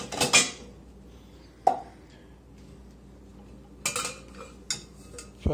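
Pots, cups and dishes clink and clatter as they are unloaded from a Brastemp dishwasher, with a sharp knock at the start and a few separate clanks near the end against a quiet room.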